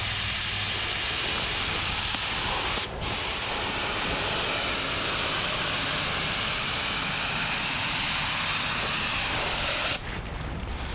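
Water sprays steadily onto the bare metal body of a 1957 Tri-Five Chevy, a loud, continuous hiss that cuts out briefly once and changes tone near the end.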